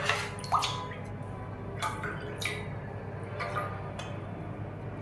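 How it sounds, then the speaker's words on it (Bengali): Water is poured from a cup into a wok, giving a few short, faint splashing gushes and drips separated by quiet stretches in an otherwise hushed kitchen. "কড়াইয়ে 2 কাপ পানি নেব।"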